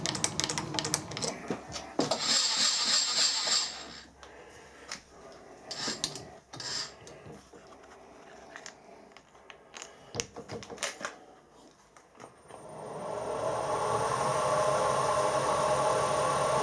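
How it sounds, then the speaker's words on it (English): Centre drill starting a hole in a metal workpiece on a lathe during metric screw-cutting work, heard as uneven scraping and rasping cuts with pauses, then a steady whirring machine hum building near the end. "I think the centre drill should start on it alright"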